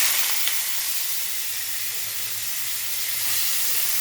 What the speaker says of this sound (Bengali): চিংড়ি মাছগুলো আগে ভেজে নেব আমি